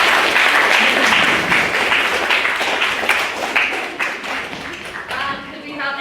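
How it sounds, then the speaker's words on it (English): A debate audience in a hall claps in sustained, dense applause that carries on evenly and then tapers slightly toward the end, with a voice briefly audible over it. "Could we have a second round of applause for me?"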